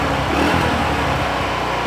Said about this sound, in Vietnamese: em nổ máy cái nha